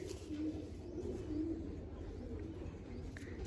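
Pigeons, including newly released hens, coo in low, soft repeated calls close by over a steady low rumble of background noise.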